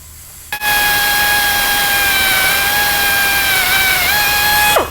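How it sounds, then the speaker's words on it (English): A steady high-pitched whine of a power drill boring a pilot hole through metal on a Pioneer 1000, running continuously for several seconds after a brief start, close and loud. "Okay, that's our pilot hole."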